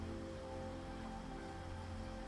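Rain falls steadily at night in a faint, even hiss that never changes and has no voices over it.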